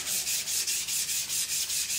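A Yamashine 135 mm Funayuki white No. 1 knife blade rubs back and forth on a flattened Naniwa 200 whetstone, a close, even scraping hiss in steady strokes about five times per second.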